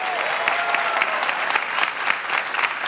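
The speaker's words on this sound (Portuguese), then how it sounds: "Vamos aplaudir aqui" Audience applause for a band during a televised interview show, a steady dense wash of clapping with a few cheers, close and filling the room throughout.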